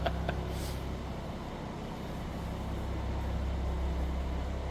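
A 2026 BMW M340i idles with an M Performance exhaust, a steady low rumble held for several seconds at a dealership with nothing else heard.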